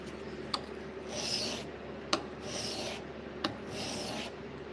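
A knife blade is stroked across a 400 grit sharpening stone in three slow, rhythmic scraping passes, each opened by a small tap. The strokes are close and fairly quiet, with no talking.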